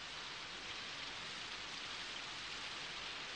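Steady rain pours down in a Moomin cartoon morning scene, a dense, even hiss of falling drops with no pauses, moderately loud and unbroken by voices.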